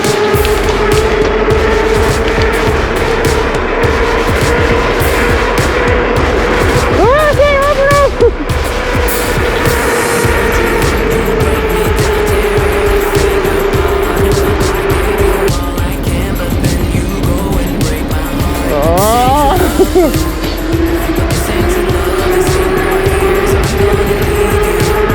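An e-bike ridden flat out in race mode around a track, with a steady loud motor whine and rushing wind and road noise, the pitch rising and falling with speed, close to the rider.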